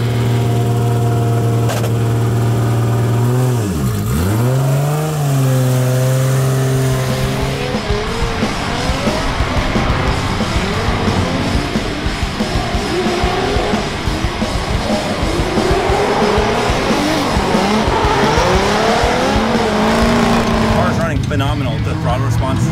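A Toyota/Lexus IS300 with a freshly rebuilt engine revs hard and close, its pitch rising and falling through repeated throttle blips. Steady, loud engine drone with sweeping revs follows, and a voice talks over it.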